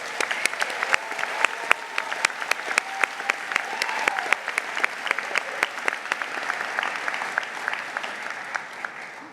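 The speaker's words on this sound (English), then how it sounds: "So let's just give an applause again to you all." Applause at a medical school white coat ceremony at UCLA, a large audience clapping steadily with sharp individual claps standing out, holding for the whole stretch.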